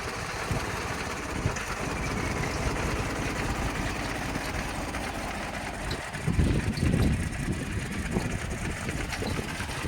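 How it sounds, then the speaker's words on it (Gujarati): A Mahindra 295 tractor engine runs at a steady idle close by, with a low rumbling drone that swells briefly louder around the six-second mark, and no talking. "એન્જિન પાવરફુલ છે।"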